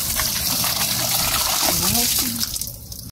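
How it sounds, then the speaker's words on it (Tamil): Herb leaves being rinsed in water give a close, continuous splashing and gushing, with a voice talking over it before the water sound trails off at the end. "இதே மாதிரி ஒரு ஒரு லீஃபா நம்ம போட்டு கழுவி எடுத்துக்கலாம்."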